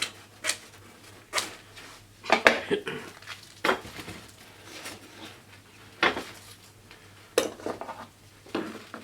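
Stainless steel mesh for an emergency oil lamp shroud is cut into sections, giving sharp, scattered metallic snips and clinks spaced irregularly among quieter handling noises.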